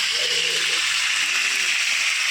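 Curry leaves go into hot oil for a fish curry tempering on a wood stove, giving a loud, steady sizzle and hiss close up, with a voice speaking briefly over it.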